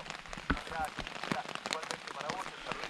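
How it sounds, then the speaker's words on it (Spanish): Steady rain in the Patagonian lake region around Lago Puelo, a dense patter of drops striking nearby surfaces with scattered louder splats, continuous and fairly faint. "Lloviendo en todas partes aquí en la región."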